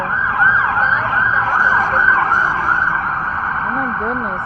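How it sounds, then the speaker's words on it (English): Several emergency vehicle sirens wail continuously with rising and falling sweeps, loud and layered over street traffic noise, with a second siren pattern joining near the end. "how can she sleep with all these sirens?"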